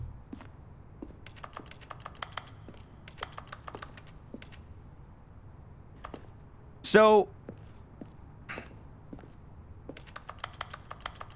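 Computer keyboard keys and mouse buttons click in scattered bursts and short typing runs while someone plays The Stanley Parable: Ultra Deluxe, with a brief loud voice-like sound partway through and a spoken word.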